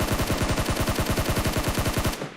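Automatic gunfire in a PUBG Mobile esports match, a long, rapid and perfectly even stream of loud, close shots lasting about two seconds before cutting off, with no voices.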